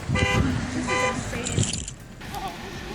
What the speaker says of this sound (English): You can hear those car alarms and horns blaring everywhere